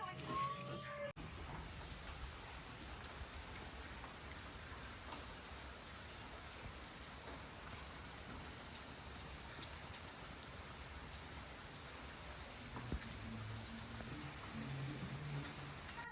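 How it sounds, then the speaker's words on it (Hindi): Heavy rain pours steadily in Switzerland, a dense even hiss of falling water continuing throughout, with a few faint clicks and low sounds beneath. "इतनी शदीद बारिश।"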